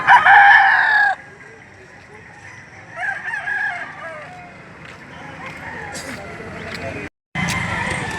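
Rooster at a market crowing loudly and close at the start, then again more faintly, with people talking and market noise around it.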